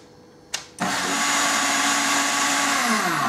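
A blender whirs to life on high speed mixing crepe batter of milk, flour, salt and eggs, a short click and spin-up followed by a steady loud motor whine and churning.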